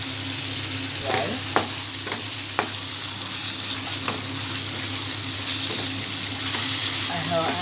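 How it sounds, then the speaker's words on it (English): Methi prawn curry with curd and ghee fries in a pan, a steady close sizzle punctuated by occasional scraping stirs. "Add a spoon of ghee and allow it to fry well and serve."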